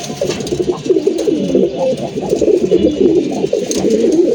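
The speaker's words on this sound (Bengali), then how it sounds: "এই হচ্ছে আমার উড়ানোর নর কবুতরগুলা" A group of male flying pigeons coos continuously at close range, dense overlapping throaty calls forming a loud, steady murmur with a few brief rustles and no speech.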